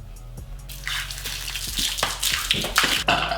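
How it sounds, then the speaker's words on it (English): Water splashes and pours close by onto a face over towels laid on the floor, a rising, gushing wash with scattered splatter and no talk. "there's gonna be a lot of water poured all over my face"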